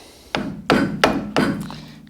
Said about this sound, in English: Break off the grease cap here.